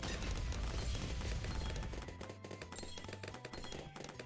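Rapid Gatling cannon fire from a Bloons tower-defense game, a dense continuous rattle of shots layered with busy game effects, loud and steady throughout.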